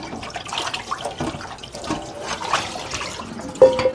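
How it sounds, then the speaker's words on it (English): Warm tap water runs and splashes into a sink while a cast iron skillet is rinsed, a steady mid-level wash with a brief sharper splash near the end. "I use warm water."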